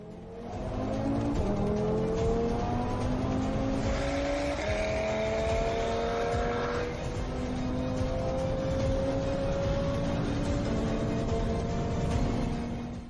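An Audi RS3 engine revs hard through rising and falling gear tones during a race, heard from inside at steady volume with no talking.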